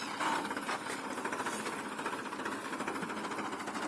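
A tractor engine runs while hauling paddy to a farm field, making a steady, fairly close mechanical chugging with a rapid knocking pulse and no talking.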